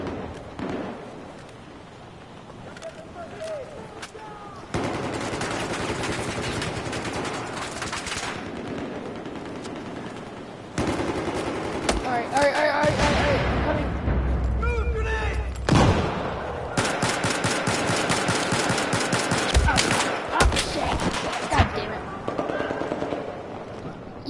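Heavy gunfire rings out in Battlefield 4: long, dense bursts of automatic fire and rattling shots come in waves for over twenty seconds, loud and close, with voices faintly mixed in.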